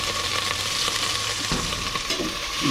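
Ingredients sauté in a hot pan, giving a loud continuous sizzle and frying hiss up close, with occasional stirring scrapes and no talking.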